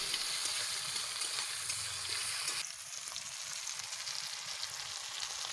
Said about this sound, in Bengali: এবার পেঁয়াজ কুচি টমেটো কুচিটা একসঙ্গে দিয়ে দেবো, দিয়ে এটা একটু ভেজে নেবো।